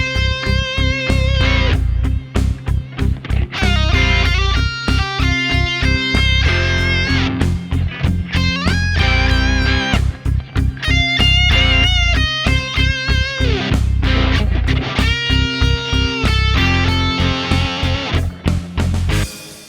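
An electric guitar plays through high-gain distortion with reverb and delay, a loud, sustained, chugging rock riff with choppy rhythmic stops and ringing tails that fills the whole passage without any voice.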